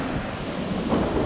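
Surf washing onto the Mediterranean shore in Spain, a steady close roar of waves with wind buffeting the microphone.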